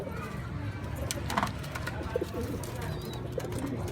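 Pigeons cooing while being fed and flown on a Sunday, low coos and bird calls under a busy outdoor background, with faint voices and children nearby.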